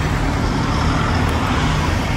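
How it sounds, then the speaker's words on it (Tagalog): A car passes close by on a road near Yoro Falls in Japan, a steady, loud broadband rush of tyre and engine noise that fills the whole moment without a clear rise or fall. "Sorry, may sasakyan."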